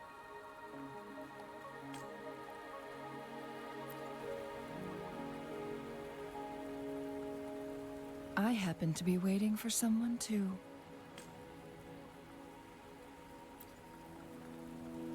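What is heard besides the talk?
rain in video game Wuthering Waves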